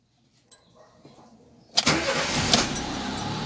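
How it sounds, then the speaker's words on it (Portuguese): A Fiat Palio 1.0 8V with a fault that keeps its radiator fan running cranks and fires up after a quiet moment, then settles into a loud, steady idle inside the car. "vamos dar partida no carro aqui"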